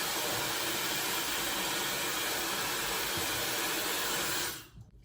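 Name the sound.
hair dryer blowing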